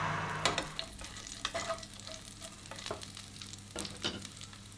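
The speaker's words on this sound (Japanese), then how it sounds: "エポールを取り出した鍋の肉をよく炒めて" Leftover lamb meat stir-fried in a pot, steady soft sizzling broken by repeated scraping and stirring strokes, close and fairly quiet with no talk.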